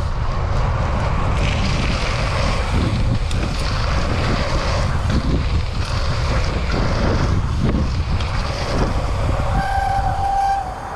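Strong wind gusting outdoors during a jump riding session, a loud continuous roaring rumble dominating throughout that eases slightly at the very end.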